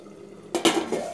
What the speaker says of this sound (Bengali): এরপরে আবার ঢাকা দিয়ে রেখে দিচ্ছি